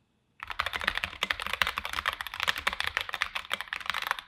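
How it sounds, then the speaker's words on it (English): Rapid, continuous typing on a computer keyboard starts abruptly after a moment of silence, with close, crisp key clicks in an uneven rhythm and no talking. "I'm just going to start typing."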